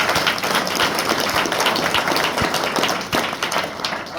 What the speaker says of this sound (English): Mary and Steve, give them a round of applause.